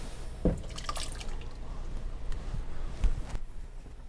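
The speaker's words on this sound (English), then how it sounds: "We're going to add our stock, and we can let this simmer down" Stock is poured into a cooking pot for tomato sauce, a soft, close liquid splashing and trickling with a couple of small clinks of metal, steady and moderately quiet.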